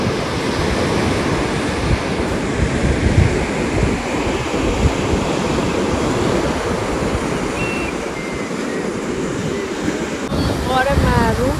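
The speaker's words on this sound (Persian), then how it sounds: "امروز دریا خیلی موج داره نگاه کن" Rough sea waves crashing steadily along the shore at Chabahar, a continuous loud surf roar mixed with wind buffeting the microphone, with brief faint chirps near the end.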